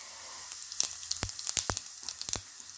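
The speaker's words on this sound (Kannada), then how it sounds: "ಈಗ ಎಣ್ಣೆ ಬಿಸಿ ಆಯಿತು ನಮ್ಮದು. ಸ್ವಲ್ಪ ಸಾಸಿವೆ, ಜೀರಿಗೆ," Mustard seeds and cumin sizzling in hot oil while cooking bhindi fry, faint crackles with scattered sharp pops spaced irregularly, alone without speech.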